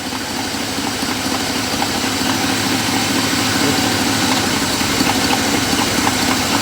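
A car engine idles with a steady, close, loud rumble while its timing is adjusted with a timing light, the running slightly uneven with faint stutters and no speech.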